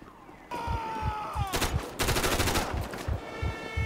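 Police gunshots in the video game GTA 5, with a siren wailing and sharp, repeated bursts of rapid fire close by, pulsing through the clip.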